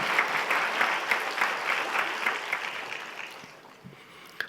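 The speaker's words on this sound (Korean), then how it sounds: "우리 하나님께 감사의 박수 돌리겠습니다." Church congregation at a Korean Friday evening worship service clapping in thanksgiving, a steady, fairly loud round of applause that gradually fades toward the end.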